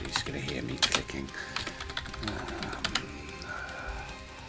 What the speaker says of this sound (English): You're just going to hear me clicking.